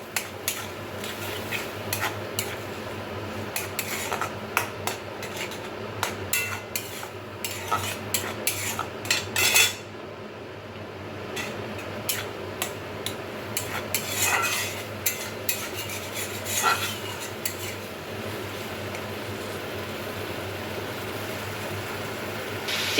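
Shrimp seasoned with salt and turmeric fry in a wok, a low steady sizzle under frequent metallic scraping and clatter from a spatula stirring them, close and continuing throughout with no talk.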